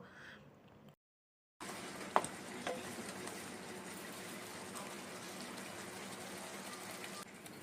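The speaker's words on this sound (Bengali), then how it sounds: "একটু জল দিয়ে দিই" Water pours into chicken butter masala gravy in a cooking pot, a steady gushing splash that starts after a short silence and keeps going, close and even.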